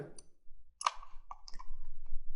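A few quiet, sharp computer mouse clicks on a Windows 8 computer, spaced apart over a near-silent background.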